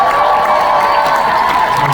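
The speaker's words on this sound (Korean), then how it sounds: "고생한 멤버들한테 박수 한번 부탁드립니다" Concert audience at a closed beta show cheers and applauds in a dense, steady roar of many voices and hands that holds at full strength throughout, with no break or fade.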